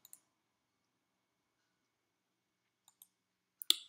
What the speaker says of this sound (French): pour chaque tâche, je clique et je change simplement la couleur.